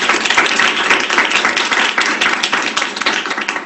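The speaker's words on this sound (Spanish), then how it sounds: "Primero un aplauso." Lively audience applause at a talk on inclusive and accessible communication, with brisk, dense clapping that stays loud and close from start to finish.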